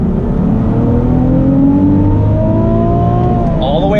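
A 2019 Nissan 370Z NISMO accelerating hard in first gear, its engine note rising steadily and loudly from inside the car, no talking.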